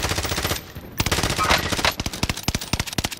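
Rapid automatic gunfire in an online shooter game, dense bursts of close, loud shots with brief gaps, ending in separate sharp single cracks.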